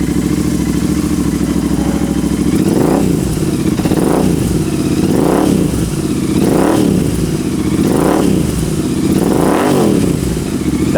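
Royal Enfield race-build motorcycle engine with a loud, steady idle, blipped into six evenly spaced throttle revs that rise and fall, close and dominant with no voices.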